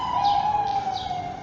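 A police siren sounds from a distance down a small New York side street off a big avenue, a steady wavering wail running throughout while birds chirp faintly nearby.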